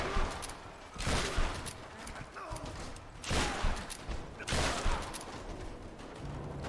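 Shotgun blasts from the 2013 Tomb Raider game, loud broadband bursts arriving in three or four spaced volleys over a noisy combat background with faint voices.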